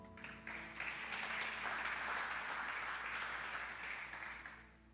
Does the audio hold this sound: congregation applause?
yes